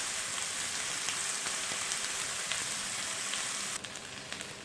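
Chicken steaks frying in a pan, a steady dense sizzle and crackle like light rain, continuous and close with small pops throughout and no talking.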